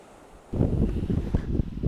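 Ocean waves at Rainbow Haven Beach, Nova Scotia, a soft wash that rises suddenly into a rumbling surge mixed with gusty wind buffeting the microphone, fairly close.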